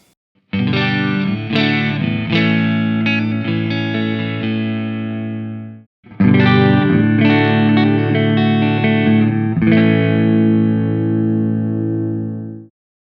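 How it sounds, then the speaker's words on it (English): Electric guitar run through overdrive pedals into a Fender Hot Rod Deluxe amp rings out in loud, sustained strummed chords, a long phrase that cuts briefly before a second phrase rings out and decays. "The guitar goes into the pedals directly into the Fender Hot Rod Deluxe"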